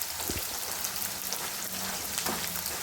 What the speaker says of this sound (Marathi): तेल चांगलं गरम झालेलं आहे म्हणून पटापट तळून जात आहे